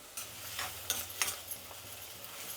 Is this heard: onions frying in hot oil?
yes